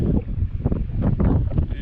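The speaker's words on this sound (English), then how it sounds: "it's kind of windy up here, so you're going to hear the wind" Strong gusty wind at the Three Rivers Petroglyph Site, New Mexico, buffets the microphone with a constant low roar and rumbling bursts, loud and close.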